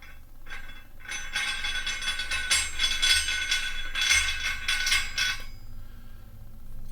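A CAP triceps bar weighing about 14 pounds being tightened, giving a steady run of close metallic ratcheting clicks and clinks for several seconds.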